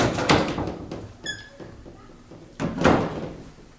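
Closet double doors in a house being opened or closed, giving a couple of wooden thuds and a short rattling slide, with a second thump near the end in a quiet room.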